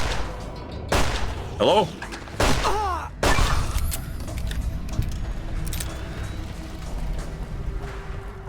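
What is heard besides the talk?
grenade explosions and gunfire in Fallout New Vegas video game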